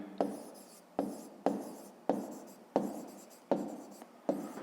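Pen strokes scratch across paper in a steady rhythm, about one firm stroke every second, close and fairly quiet, with no talking during a maths exercise being worked out by hand.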